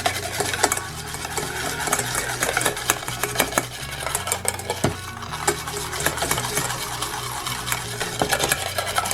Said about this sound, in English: this is the fun part where we're gonna mix it really well with the whisk